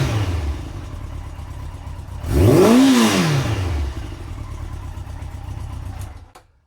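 A Yamaha XJ900 Diversion motorcycle engine runs without choke, idling steadily up close, rising briefly in a smooth rev and settling back before cutting off at the end.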